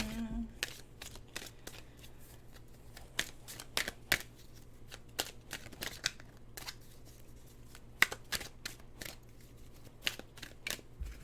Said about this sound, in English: I'm gonna kind of pre-shuffle the deck here.